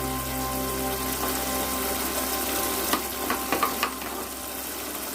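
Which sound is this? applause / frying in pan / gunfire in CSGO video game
frying in pan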